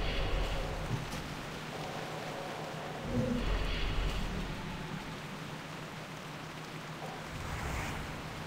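Steady rain in World of Warcraft Classic, a continuous soft hiss of falling drops with faint swells, fairly quiet and unbroken, no speech.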